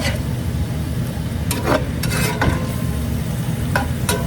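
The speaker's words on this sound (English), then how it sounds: "The next thing I'm gonna do, I will stir it again." A shrimp stir fry sizzles loudly in a pan while it is stirred, with a steady hiss of frying broken by a few scraping strokes of the utensil, close up and with no talking.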